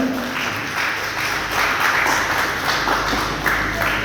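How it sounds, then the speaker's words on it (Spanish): A church congregation claps together in praise, a loud, dense wash of applause close by that continues steadily throughout without speech. "démosle una ofrenda de palmas a nuestro Padre Celestial"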